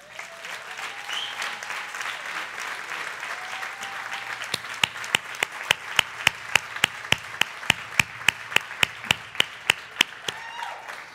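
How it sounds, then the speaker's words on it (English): Congregation applauding at a church service, a broad steady wash of clapping that sharpens into loud, evenly spaced sharp claps over the second half, with faint voices mixed in. "I want you to take a moment just to applaud the God who"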